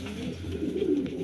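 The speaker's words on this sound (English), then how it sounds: "But they're fantastic pigeons they've bred." Pigeons coo softly in a breeding loft, low throaty murmurs at a moderate distance over a short stretch.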